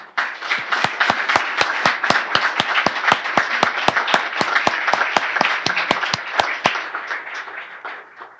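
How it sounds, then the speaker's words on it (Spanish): At a Spanish-language book launch, an audience breaks into loud applause, with one close clapper striking a fast, regular rhythm over the crowd before the clapping thins toward the end. "Solicito un aplauso para él."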